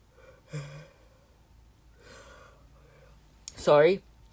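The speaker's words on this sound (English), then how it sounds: "Inconveniently timed yawn." A single loud, drawn-out voiced yawn close to the mic, preceded by soft murmuring and breathy sounds.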